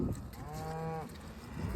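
A single cow lows among a cattle herd at a farm where calves are being separated and vaccinated, a drawn-out moo of about a second over rumbling background noise.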